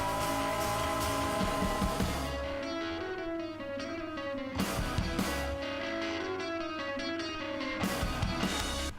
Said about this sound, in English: And the guitar is going to sound like this.